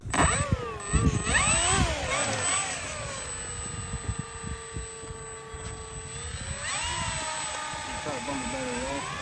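Electric RC model jets, an F-18 and a Pilatus, whine past with rising and falling pitch, loud then steady, with people talking over the engine drone.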